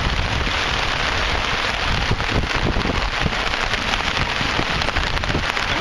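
Steady rain pattering on surfaces at the start of a storm, a dense continuous hiss of drops close by, alone without voices or thunder.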